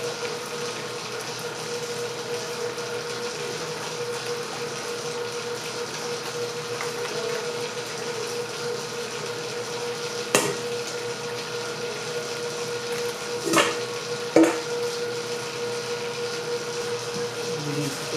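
A Vevor spiral dough mixer churns bread dough with a steady motor hum and low whirring drone, a few brief knocks and thumps breaking through near the end.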